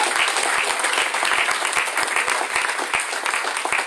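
A church congregation bursts into sustained applause, dense and steady clapping from a crowd filling the room for the full few seconds, with no talk over it.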